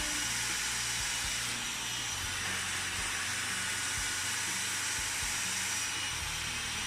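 A Dyson Supersonic hair dryer runs steadily with a broad, even whoosh of airflow, close and constant from start to finish, with no voices.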